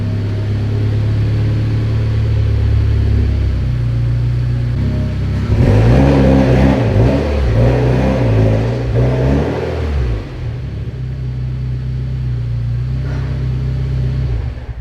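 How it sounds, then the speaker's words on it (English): A leaf blower blasts water off a car, a loud close whirring drone that swells in the middle as the airflow shifts, then settles back to a steady hum. "I'm just gonna grab our leaf blower, blow off all the water, and we'll be done."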